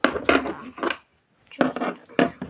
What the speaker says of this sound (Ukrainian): І ще положу щіпчики такі